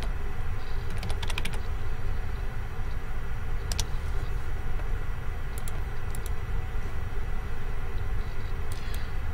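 Instructions are typed on a computer keyboard: scattered clusters of light keystrokes come in short bursts over a steady, fairly loud background hum.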